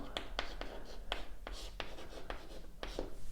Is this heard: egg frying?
no